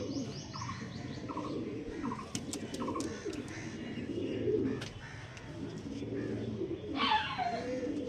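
Pigeons coo over steady flock chatter at a pigeon sale of Andhra star kalka birds, with scattered chirps and a brief flutter of wings near the end.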